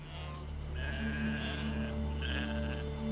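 Sheep used in British anthrax bacterium tests on Gruinard island bleat repeatedly, several overlapping calls from nearby animals over a steady low background hum.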